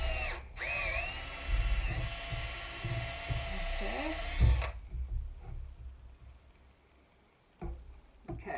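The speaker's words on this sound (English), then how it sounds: "And I am going to drill a hole in there for my hanger." A power drill bores a hole into a wooden broom handle, whining loudly and steadily for several seconds before stopping, followed by quieter handling sounds, a short burst and someone speaking.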